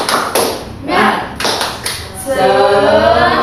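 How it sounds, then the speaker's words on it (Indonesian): A classroom of children performs a rhythmic spirit clap, several loud patterned claps and taps alternating with group chanting, followed by sustained voices calling out together. "Tepuk semangat"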